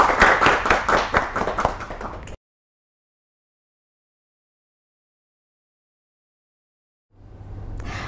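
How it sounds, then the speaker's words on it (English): Classroom applause from a group of students: a dense burst of clapping for about two seconds that cuts off abruptly, then a quieter burst of clapping near the end. "give applause to our class"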